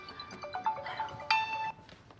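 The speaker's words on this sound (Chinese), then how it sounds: "我去接个电话哈。" A phone ringtone plays a short melodic electronic tune of a few sustained tones that brighten and stop abruptly, with no talk over it.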